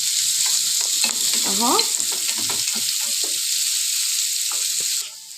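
Onions sautéing in a few spoons of oil in a pan, a steady loud hissing sizzle close by with stirring scrapes, and a brief spoken word partway through before the sizzle cuts off at the end.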